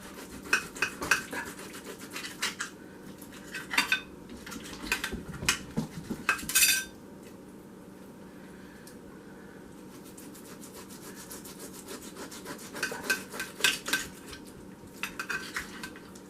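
A knife cuts canned corned beef into small pieces, giving close, intermittent scraping and clinking strokes against metal in short bursts, with quieter gaps between them and no talking.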